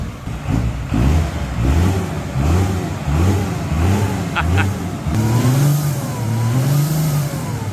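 A mechanical Cummins 6BT diesel in a Ford F1000 revs close and loud, rising and falling several times in a rough, throbbing roar while someone talks over it.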